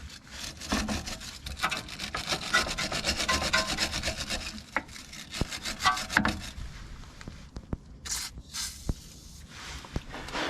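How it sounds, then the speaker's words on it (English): A wire brush scrubs the threaded end of a bolt on the front coil spring suspension of an Audi A6 C7, giving a close, steady run of rapid scratchy rasping strokes that breaks into scattered sharper scrapes near the end. "I would suggest cleaning the thread up where you're going to be taking the bolt off with a wire brush"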